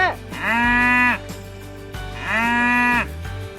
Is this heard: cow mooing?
yes